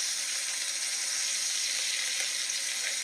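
Steak frying in a hot pan, cooked to medium rare, gives a steady bright sizzle that runs evenly and close throughout with no voices.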